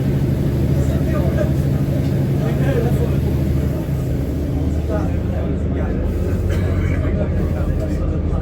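A passenger train rolls from Taunton onto the branch line toward Bishops Lydeard, a steady loud rumble of wheels and engine heard from on board, continuous throughout with no break.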